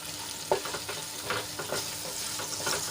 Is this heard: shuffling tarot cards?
no